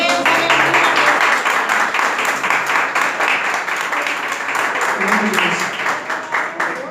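Members of a church congregation clap together during a sermon on Joshua, a loud, continuous wash of applause with a faint voice under it, holding steady and swelling slightly toward the end.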